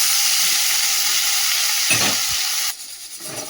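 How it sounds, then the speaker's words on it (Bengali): Eggplant frying in hot oil in a wok makes a loud, continuous sizzle with a few soft stirring knocks, dropping in level toward the end. "চল বেগুনটা ভাজা হোক"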